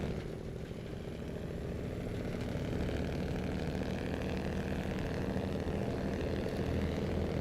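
A Kenworth truck engine in the video game SnowRunner drones at a steady, even idle-like rumble throughout, with no other sounds.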